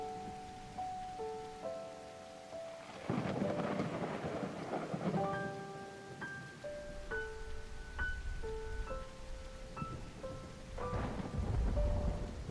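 A thunderstorm with steady rain falling on surfaces and rolling thunder that swells midway, heard alone with no voices, while a soft melodic tune plays over the downpour.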